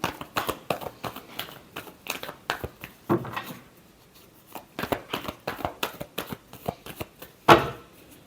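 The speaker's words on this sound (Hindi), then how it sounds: "Last shuffle." A deck of tarot cards is shuffled for a weekly Capricorn reading. Close, crisp riffles and flutters come in repeated bursts with short pauses, ending in a sharper slap of the cards, with no talk.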